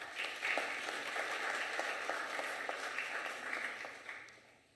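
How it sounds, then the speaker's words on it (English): Moderately faint applause from an assembly of traditional and Khoisan leaders holds steady with a few distinct claps standing out, then tapers off toward the end. "Let us applaud those provinces that did that."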